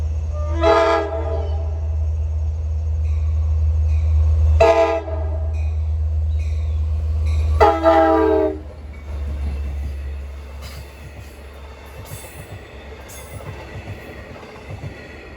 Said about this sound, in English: And approaching westbound at 8:58 is train 8701 from Montauk to Jamaica.